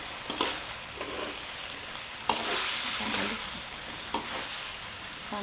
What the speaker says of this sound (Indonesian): Nah, ini kita akan aduk.